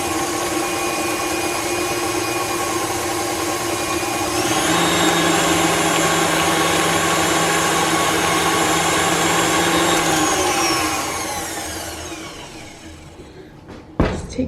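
An electric mixer whirring through carrot cake batter with a little added milk, a loud steady motor hum that rises in pitch partway through, then winds down and stops, followed by a few clatters.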